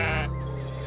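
A sheep on a small farm lets out a single loud, close bleat that wavers and trails off within a second.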